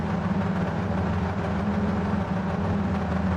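Several Mini race car engines in a sim racing game rev steadily together on the grid before the start, a dense, loud, continuous low drone with no talk.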